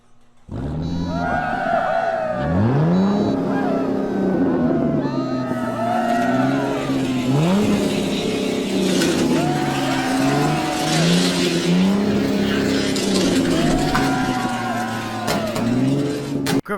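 Race cars speeding through a finals race, engines whining and shifting through rising and falling revs, loud and continuous for the whole stretch, with a voice faintly under the engine noise.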